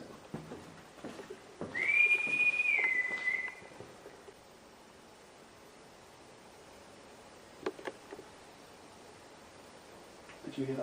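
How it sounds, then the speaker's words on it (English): A single sustained whistle from a person, held for about two seconds in a quiet old hall during a ghost hunt, followed by faint rustling and near silence. "I'm going to whistle first."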